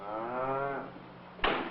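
Milk cow on a wheat farm gives a single drawn-out moo, moderately close and clear, followed by a short knock-like thud.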